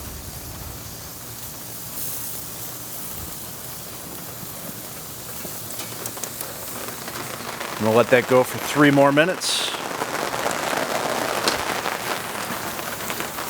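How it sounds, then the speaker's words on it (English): Light rain falls outdoors around a Napoleon Phantom grill where a London broil is cooking, a steady soft patter throughout, with someone speaking briefly partway through and a few clatters. "It's starting to rain on me a little bit, but no big deal."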